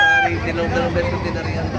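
Chickens cluck and call amid a busy crowd at a poultry market in Bocaue, Bulacan, with murmuring voices and market bustle mixed in.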